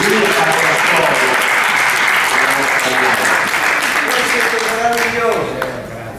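Warm, dense audience applause at a press conference for a comedy stage show, steady throughout and tapering slightly at the end, with a few voices and music faintly underneath.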